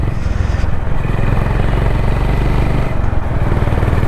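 A Honda CB350 Highness motorcycle engine and exhaust rumble steadily while riding on the road at night, a loud, close, continuous drone with a throbbing low-end pulse.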